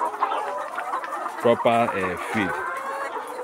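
A laying hen clucking in a short burst of a few rough calls, close and clear amid background chatter from the keeper.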